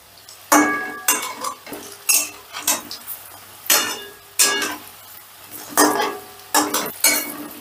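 Egg-and-lentil fritters sizzling in a pan while a utensil flips them, scraping and clinking against the pan in repeated bursts, close and fairly loud, with no talking.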